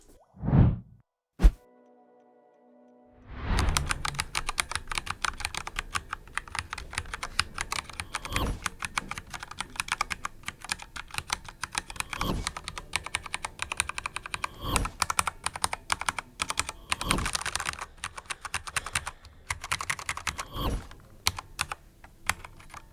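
Fast, steady typing on a computer keyboard fitted with upgraded switches and keycaps, a dense run of close, crisp key clicks with louder thocks mixed in, heard alone after a few short knocks at the start.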